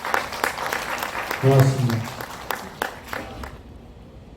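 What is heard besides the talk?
university students applauding after a song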